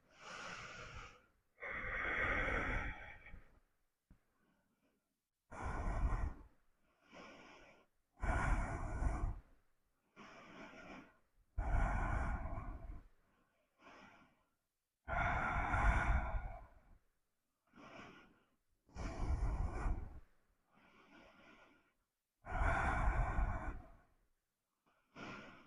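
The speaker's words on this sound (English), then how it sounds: "Keep breathing deeply," Deep ujjayi breaths during a Jivamukti yoga hanumanasana practice, a steady series of loud, close, hissing inhales and exhales, each lasting one to two seconds with short pauses between, heard alone without talk.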